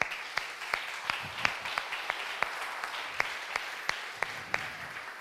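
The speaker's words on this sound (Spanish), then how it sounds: "Denle un aplauso al Señor" A church congregation claps for the Lord in a sustained round of applause, with sharp individual claps standing out in a loose rhythm over a dense wash of hand clapping.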